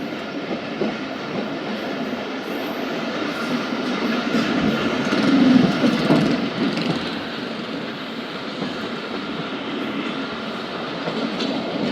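The Khyber Mail passenger train running on rails in Pakistan, a continuous loud rumble with rhythmic clickety-clack of wheels, swelling slightly midway, with no voices.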